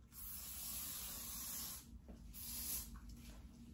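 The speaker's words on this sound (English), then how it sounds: "I wanna spray this hairspray" Two soft, steady hisses from an aerosol hairspray can, a longer burst followed by a shorter one after a brief pause, close and fairly quiet.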